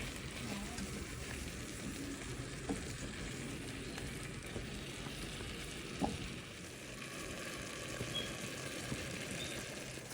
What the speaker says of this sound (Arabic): راني نقلي في البرمه تاعي حتى تتقلى